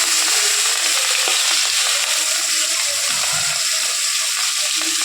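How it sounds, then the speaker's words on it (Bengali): Shrimp frying with spinach in hot oil tempered with radhuni seeds makes a dense, unbroken close sizzle, loud and even from start to finish, with a few soft stirring sounds and no speech. "তো চিংড়ি মাছটাকে ভাজা ভাজা করবো।"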